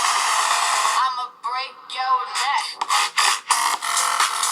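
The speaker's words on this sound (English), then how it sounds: "you can tell that these are low-power speakers that are not moving a lot of air" Music plays through a cheap laptop's small, low-power bottom-firing speakers, sounding thin and tinny with little bass, with some choppy gaps partway through.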